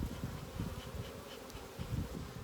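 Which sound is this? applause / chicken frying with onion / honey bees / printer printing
honey bees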